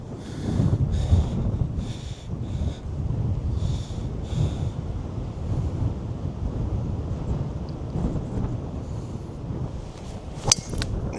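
Strong, steady wind of about 20 miles an hour gusting to 35 on a golf course, roaring and buffeting the microphone continuously with low rumbling gusts throughout, alone without talk.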